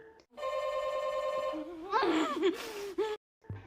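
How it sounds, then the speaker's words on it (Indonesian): An old-style home landline telephone bell rings steadily for about a second and a half, followed by a short burst of rising, wavering tones and a final brief ring. "tiba-tiba telepon rumah berdering."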